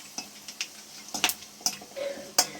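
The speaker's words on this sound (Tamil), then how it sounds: "அதே வானலில் பிரிஞ்சி இலை, கல்பாசி, கிராம்பு, சோம்பு இதெல்லாம் சேர்த்து நம்ம வறுத்து எடுத்துக்கலாம்" Bay leaf, black stone flower, cloves and fennel seeds roasting in a pan give light, scattered crackles and small pops with a few sharp clinks, fairly close and without talk.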